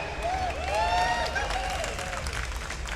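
Crowd applause at a Starcraft 2 tournament as a player is introduced, steady clapping and cheering from a live audience with a few rising whoops over it.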